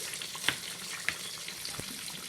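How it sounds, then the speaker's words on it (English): Fish frying in a pan, a quiet steady sizzle with a couple of brief pops and crackles, heard alone. "You want your fish to be thoroughly fried."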